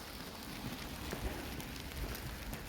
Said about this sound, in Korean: 비가 내리고 있습니다.